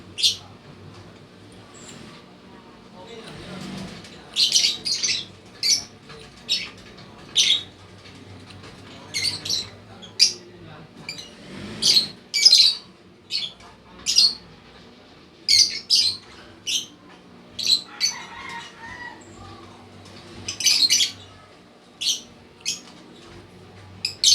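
Hen bird squawking in short, sharp bursts repeated every second or two, close and loud against a quiet background, with a few softer chirps between calls.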